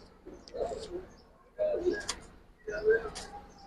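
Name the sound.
female giribaz pigeon cooing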